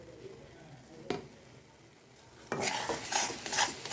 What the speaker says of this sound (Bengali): আর নাড়লে যখন দেখবেন যে নিচে আর লাগছে না, তখন ভাববেন এটা হয়ে গেছে।